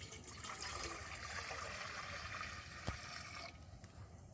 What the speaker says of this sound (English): So we'll just pour some water in the pot,